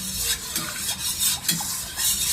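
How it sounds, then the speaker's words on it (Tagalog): A spoon stirs corn soup in a pot, making rhythmic, close swishing and scraping strokes that rise and fall several times, with no voices. "Dapat kailangan po talaga natin yan haluin."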